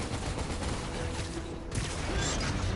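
Gunfire in the video game Marvel's Spider-Man Miles Morales, a dense continuous fusillade of shots with crackling impacts, loud and sustained throughout.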